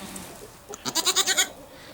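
A goat bleats once, a close, wavering cry of quick pulses lasting about a second over faint background noise.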